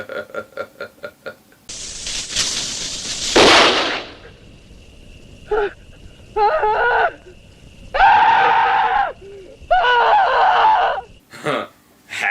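Fireworks hurled at people in a summer-camp slasher film: a loud, sustained hissing, crackling burst, followed by a string of sharp, high shrieks and yells in short separate bursts.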